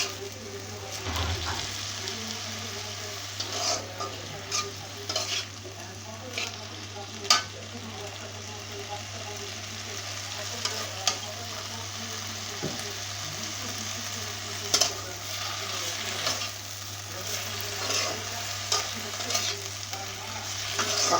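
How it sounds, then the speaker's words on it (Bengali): Stem amaranth greens fry and get stirred in a pan with a steady, close sizzle that runs throughout, broken by occasional scrapes and clicks of the stirring utensil. "তো এই যে এটাকে আমি ভাজা ভাজা করে নেবো এখন"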